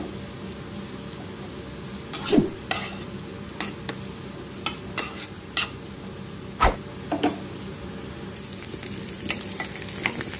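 Egg noodles being stir-fried and tossed in an iron pan, a steady background sizzle punctuated by sharp, irregular metallic clacks and scrapes of the spatula, close and without talk.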